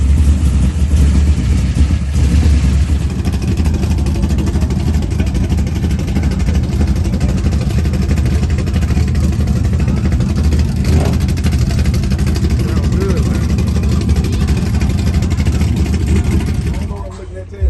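A Chevy box car with a stroker engine revs at a park-and-chill car meet, giving a loud, deep, sustained rumble at close range that eases off near the end.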